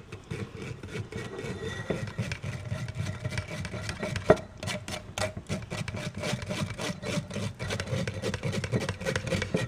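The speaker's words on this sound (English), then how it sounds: "As you stir it, it should be falling into the container at the bottom." Guava smoothie stirred and pressed through a strainer into a container, heard as a continuous close scraping, rubbing rasp with a faint steady hum underneath and one sharper knock partway through.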